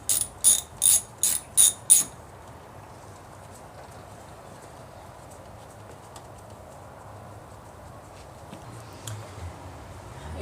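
A ratchet wrench clicks in five quick bursts while tightening an 8 mm bolt on the engine tray of a BMW 328i or 128i, close and crisp, followed by near silence with faint shop noise.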